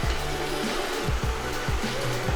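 A Shark Ion robot vacuum runs indoors with a steady whirring motor hum, with repeated low bumps and shifts in tone as it moves around nearby.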